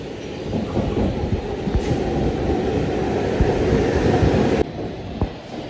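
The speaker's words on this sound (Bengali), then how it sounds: "এখন যেটা বেরোচ্ছে সেই ট্রেনটা হচ্ছে আদ্রা বাঘাযতীন এক্সপ্রেস, যেটা হাওড়া পর্যন্ত যাবে।" An Adra–Baghajatin Express train bound for Howrah pulls out of a station on a rainy early morning, a steady, loud rumble of rolling wagons and wheels throughout, easing slightly near the end.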